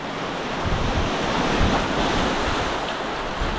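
Ocean surf roars steadily nearby, a dense wash of breaking water mixed with gusty wind buffeting the microphone.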